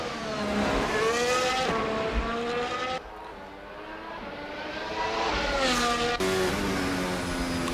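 Race car engines roar in a sim racing game at the Sim Racing Carnival 2025 in Singapore, loud and close, rising and falling in pitch as cars rev up through the gears and shift, with a brief drop in intensity midway.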